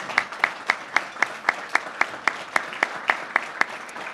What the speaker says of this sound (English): Please join me in a round of applause for Bank of America and their team.